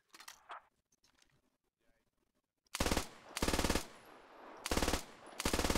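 Kord machine gun firing in the video game Squad, several loud close bursts of rapid automatic fire after a quiet stretch with faint distant sounds.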